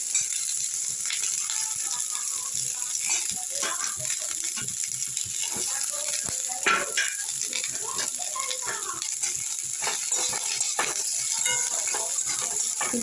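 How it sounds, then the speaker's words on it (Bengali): Cauliflower florets frying in a hot kadai for a vegetable dal, with steady sizzle and scattered crackles and pops going on throughout, close and fairly loud. "ফুলকপিগুলো ভেজে নেব।"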